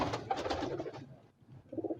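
Pigeons coo softly and close by, a low rounded burble that pauses briefly before another short coo, with no talk over it.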